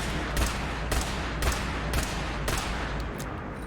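A Tinkerer's Raygun, a laser pipe revolver loaded with a fusion cell in Fallout 4, fires repeatedly in loud, evenly spaced shots about half a second apart, then a few quicker, fainter bursts at the end.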